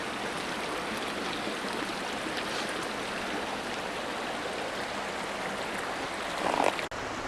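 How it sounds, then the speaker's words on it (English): King River in Tasmania flowing, a steady broad rush of moving water heard at moderate distance, continuous and even with a brief bump near the end. "This is the King River."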